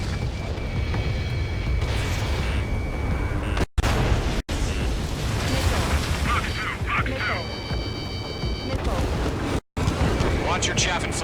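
Ace Combat 7 dogfight with booming missile blasts and continuous rumbling jet and explosion noise, punctuated by several sharp cutoffs, with alarm tones sounding intermittently and a voice speaking over the action.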